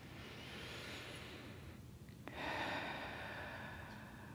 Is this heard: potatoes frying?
no